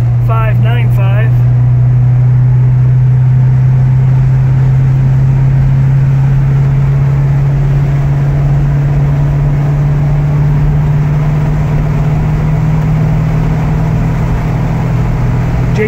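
A 1970 Buick Gran Sport Stage 1 with a four-speed runs steadily, its engine a loud, constant low drone throughout, with a brief voice at the start.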